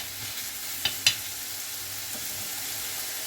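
Rice noodles cooking in a hot pan for an Asian sesame salad, a steady close sizzle with a couple of sharp clinks from stirring, no talking.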